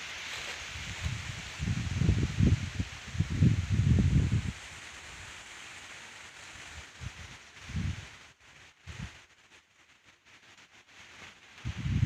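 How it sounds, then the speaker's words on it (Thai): Sugarcane leaves rustling in gusts of cold wind in a sugarcane field, with surges of dry rustling that swell and fade, then quieter stretches with a few soft bursts. "เสียงลม"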